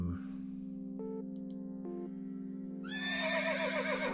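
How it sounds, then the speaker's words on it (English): Horse neighing sounds over a steady droning tone, with brief tonal blips and a rising whinny-like sweep near the end, fairly loud and continuous. "Horse noises."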